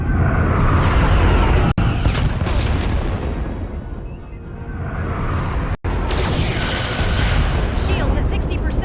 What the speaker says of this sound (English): Fire phasers!